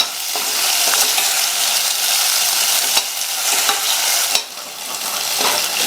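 Tomato pieces sautéing with ginger garlic paste in a pan give a steady, close sizzle, with stirring scrapes and a few sharper clicks from the spoon.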